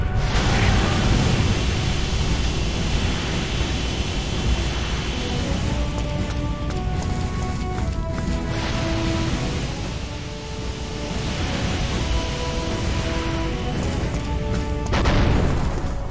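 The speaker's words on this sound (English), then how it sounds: "Damn, too many explosions." Explosions booming in the firefighting video game Firefighter F.D.18, tunnel stage, with a continuous roaring rumble that swells and bursts again near the end, over a steady blaze of broadband noise.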